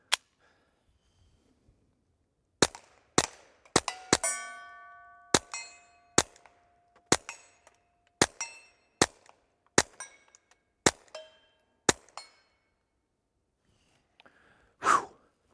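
A Taurus TX22 Compact .22 LR pistol fires about a dozen sharp, close shots in an irregular string, with a short pause after the first shot and a few ringing metallic pings between reports.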